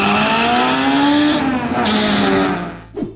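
A 1996 Chevrolet Camaro SS SLP with a V8 engine roars loud and close, holding a steady high-revving note that rises slightly in pitch, then fades and cuts off near the end.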